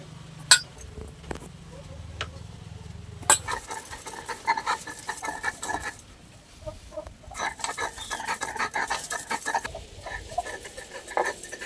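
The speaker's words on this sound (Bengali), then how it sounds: "এবারে আমি লাউ পাতাগুলো বেটে নেব।" Bottle gourd leaves ground into a paste in a village kitchen, with irregular scraping, pattering and knocking strokes of the grinding, plus occasional clinks, at close range and moderate loudness.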